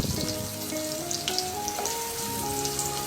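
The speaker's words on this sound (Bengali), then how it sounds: "আমি এখন তেলের মধ্যে শুটকিগুলো পেঁয়াজ আর শুটকিটা ভেজে নিচ্ছি" Dried fish (shutki) and onion frying in hot oil, a steady close sizzle with crackle and spatter throughout, set under a bed of sustained musical tones, no voices.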